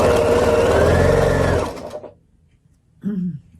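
Sewing machine stitching a quilt, a rapid steady hum that runs for about a second and a half and then stops, followed by a short voice.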